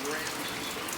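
Rain falls steadily outside on a wet, muddy sheep farm, a soft continuous patter and hiss heard close, with faint background murmur.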